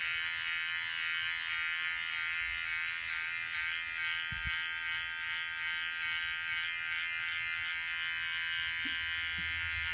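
An electric beard trimmer hums close and steady while tidying stray beard hairs, a constant high buzz with faint contact crackles and no speech.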